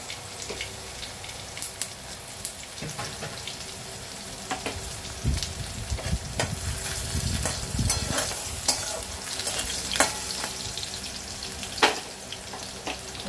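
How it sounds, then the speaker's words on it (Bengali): Panch phoron whole spices crackle and sizzle in hot oil, a dense close spattering with sharp pops and a louder burst of frying midway, no voice. "এর মধ্যে অল্প করে 5 ফোড়ন দিয়ে দিলাম।"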